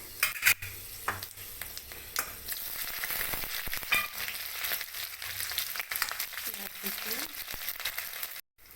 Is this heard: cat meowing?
no